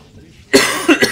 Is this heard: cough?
yes